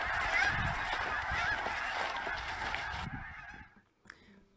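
A large flock of geese honks loudly and continuously, a dense chorus of overlapping calls that fades out toward the end with a couple of brief faint sounds.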